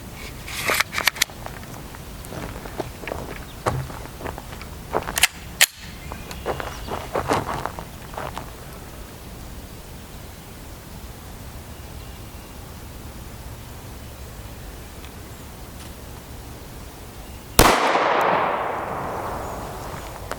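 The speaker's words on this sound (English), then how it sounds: "We'll take one shot at 10 feet, see what we get in our gel." A single 5.7x28mm round, 45-grain JHP, fired outdoors into a clear ballistics gel block ten feet away; one sharp, loud report with a ringing decay comes near the end, after a stretch of quiet rustling and handling noises.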